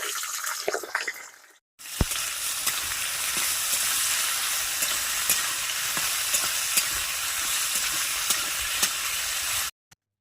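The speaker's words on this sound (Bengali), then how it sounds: "কড়াই দিয়ে দিয়েছি সাদা তেল গাজর আর ক্যাপসিকামটা ভেজে নেব" Carrot and capsicum fry in white oil in a wok, giving a dense, continuous crackling sizzle with small scattered pops, heard alone after a short quiet start and ending abruptly.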